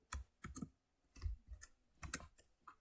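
Keystrokes on a computer keyboard while entering HTML table code, in short irregular bursts of clicks with brief pauses, close and fairly quiet, with no speech.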